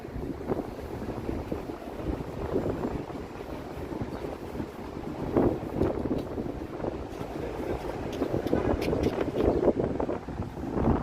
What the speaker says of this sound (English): I think we're in for some windy weather today also.